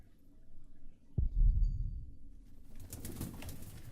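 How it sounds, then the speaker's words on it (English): Soft, low bird cooing in the Pillars of the Earth video game, faint and brief, followed by a quiet rustling wash. "Sounds like a bird."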